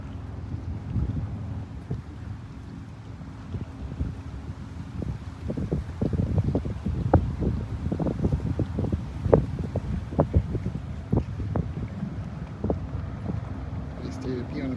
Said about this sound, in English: Nice day to be on a boat.